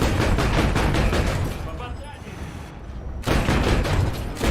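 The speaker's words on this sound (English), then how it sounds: "let's go see what happens when we go shoot a tank" Rapid bursts from a 30 mm cannon hit a Leopard 1 tank in a video game: a loud, dense volley, a short lull, then another hammering burst.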